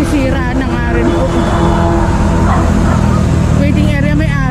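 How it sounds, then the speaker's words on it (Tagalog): A dog barks at a roadside waiting shed, yapping amid loud traffic noise and engine rumble on a busy street, with people talking nearby. "Waiting area may aso."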